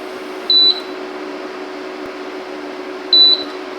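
Two short, clear beeps from a Silvercrest SDI 3500 E1 double induction hob, spaced about two and a half seconds apart over a steady low electrical hum from the cooktop running on boost.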